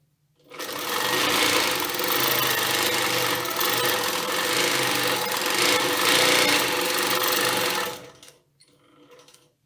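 Moxie quilting machine stitching in precision mode, a steady, loud, rapid mechanical whirring that runs for about seven seconds and then stops abruptly, leaving faint rustling.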